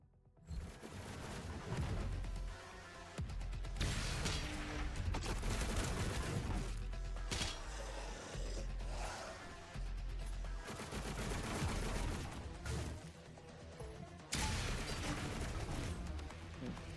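Plasma rifle overload fire in Doom Eternal, a dense, sustained barrage of rapid energy shots and blasts that runs almost unbroken and loud throughout, with brief dips between bursts under a layer of game music.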